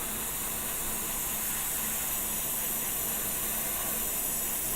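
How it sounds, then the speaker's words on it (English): An airbrush sprays paint in a steady, unbroken hiss while a Pegasus Hobbies War of the Worlds model kit is being built and repainted, close and constant with no voices over it. "So I'm just gonna spray it onto here to get rid of it."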